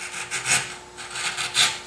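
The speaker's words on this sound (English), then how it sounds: "So 1/2-inch chisel, end grain, hand pressure, no mallet" A half-inch chisel pared by hand pressure through end grain, no mallet, giving soft rhythmic scraping strokes, a few brief rasps with small squeaky peaks, close and alone.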